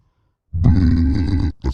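A single loud, close burp lasting about a second, followed by a short second belch sound.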